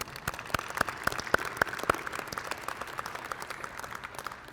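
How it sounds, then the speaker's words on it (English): Light, scattered applause from a modest crowd at a university senior breakfast, individual claps distinct at first and settling into a steady soft patter that continues throughout. "let's give them a round of applause"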